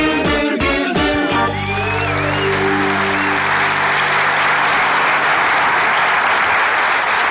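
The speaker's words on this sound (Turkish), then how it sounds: "Teşekkür ediyoruz değerli alkışlarınıza." Studio audience at a Turkish comedy sketch show bursts into loud, sustained applause that fills the room after a short burst of speech and laughter at the start, clapping steady and dense to the end.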